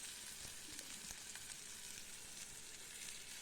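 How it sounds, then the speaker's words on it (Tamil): Steady, soft sizzle from vegetables sautéing with salt in a pan, with a few faint stirring clicks and scrapes over an even frying hiss. "கொஞ்சம் கல் உப்பு, தேவைக்கேற்ப உப்பு போட்டுக்கிட்டோம்."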